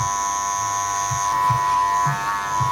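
Electric hair clippers fitted with a 1.5 guard cut through curly hair, a steady close buzz with brief deeper surges as the blades work through the hair, and no talking.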